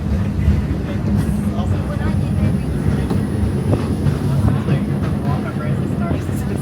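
The Liberty Belle ride train at a theme park rumbles along steadily, with a low continuous rolling clatter of wheels on track and faint background chatter.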